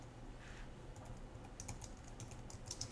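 Quiet, close typing on a computer keyboard, with a scattered run of light key clicks growing a little busier toward the end, and no talking.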